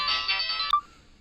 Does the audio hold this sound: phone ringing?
yes